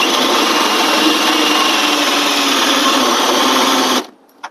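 A power drill with a hole-cutting bit bores through 3/4-inch drywall for a mini-split line, a loud steady high whir running continuously for four seconds before cutting off suddenly, leaving brief quiet and a small knock.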